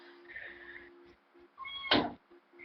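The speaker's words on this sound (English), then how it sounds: "We'll have just cat meows in the background for" A cat meows nearby, with a soft drawn-out call first and then one louder, sharper meow, while household hums and faint background sounds continue.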